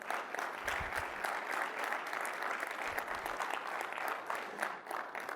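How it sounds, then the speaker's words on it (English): Moderate, fairly distant applause from a conference audience honoring the award winner Hitachi Solutions, many hands clapping in an even, continuous patter with a few low thumps. "Round of applause."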